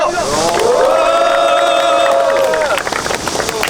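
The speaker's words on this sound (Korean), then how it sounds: "기자회견을 동지들의 힘찬 박수와 함성으로 시작하겠습니다." Cheering and applause from young construction union workers opening a press conference, a loud sustained crowd shout that rises, holds and fades over a steady roar of voices.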